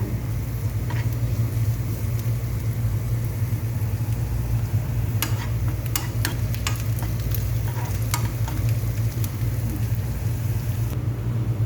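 Garlic frying in hot oil in a pan, a steady dense sizzle throughout with a few sharp crackles and pops partway through.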